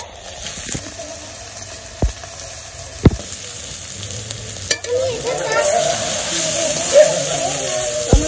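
Spices such as salt, turmeric and chili powder sizzle in a pan, with a low frying hiss, a few sharp utensil knocks, and a stronger crackle building toward the end.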